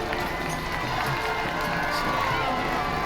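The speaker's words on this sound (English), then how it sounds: "You can hear the enthusiasm of the crowd." A large crowd at Trooping the Colour cheering, a dense, steady roar of many voices at a distance, sustained throughout without breaks.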